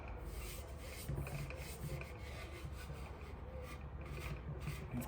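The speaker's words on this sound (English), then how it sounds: "This is almost like sculpting, except you're not using a chisel. You're using sandpaper." Sandpaper rasps steadily and closely over Bondo body filler on the tank of a 1958 Panhead chopper, a continuous gritty rubbing with slight back-and-forth surges in loudness.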